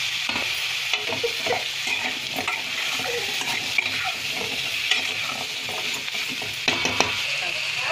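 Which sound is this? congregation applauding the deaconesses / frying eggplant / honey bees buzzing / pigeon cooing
frying eggplant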